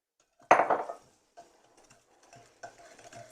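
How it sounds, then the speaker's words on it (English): A Danish dough whisk mixing baking mix into a thick batter in a bowl. One loud close scrape and clatter comes first, followed by softer, scattered stirring scuffs. "I'm just going to use this awesome little Danish whisk to mix that together first."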